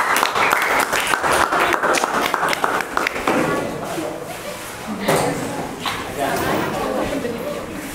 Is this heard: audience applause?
yes